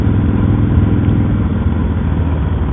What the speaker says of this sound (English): And then when you rev it up and give it throttle,